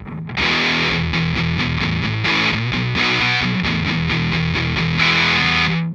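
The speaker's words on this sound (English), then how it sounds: "here is what the guitar sounds like with the fuzz pedal turned on" An electric guitar plays through a fuzz pedal on the bridge pickup, producing a bright, loud, heavily distorted riff of quick picked notes and sustained chords that rings out alone.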